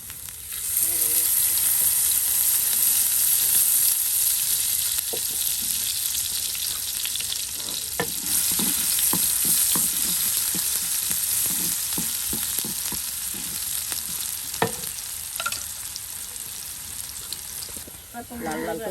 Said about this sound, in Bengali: পেঁয়াজ রসুন কিন্তু একদম লাল লাল করে ভেজে আপনার সেই পাতাগুলো দিয়ে দেওয়া হচ্ছে ঝরঝরে ভেজে নেওয়া